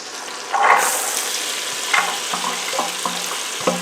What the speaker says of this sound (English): it's sizzling away in that pot.